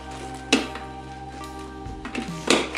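The plastic lid of an Elenberg KP 7102 electric kettle shuts with a couple of short, close clicks and clacks amid faint handling noise, with no talk.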